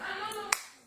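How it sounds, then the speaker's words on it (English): A single sharp hand clap, close and brief, following a short stretch of speech. "I clap."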